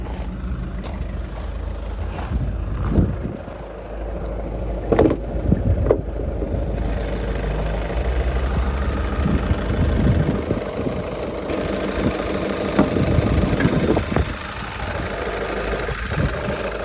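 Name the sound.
VW Scirocco diesel engine idling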